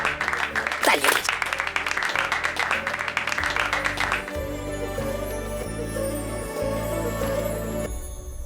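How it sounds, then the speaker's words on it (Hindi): A room of people applauds in brisk, steady clapping for the first half, then it fades out as music and other sound take over, fairly close. "ताली बजा।"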